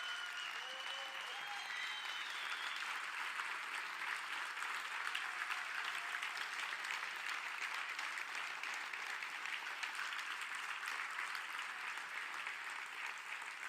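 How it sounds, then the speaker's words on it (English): A large conference audience gives sustained applause for an honored guest, a dense, even wash of clapping that holds for the whole stretch without pause. "I think we can give Jeff an unbelievable round of applause."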